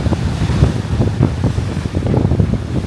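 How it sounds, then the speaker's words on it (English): Loud, blustery wind buffets the microphone while rough surf of about six-foot ocean waves churns and washes continuously in the background off Mossel Bay, South Africa. "Sure is rough though, about 6 foot waves."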